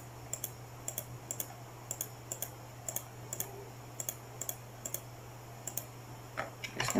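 Sharp computer mouse clicks repeat in quick pairs and short bursts while the healing brush tool is used in Adobe Photoshop; each click is crisp and close, over a steady low electrical hum, with no talking.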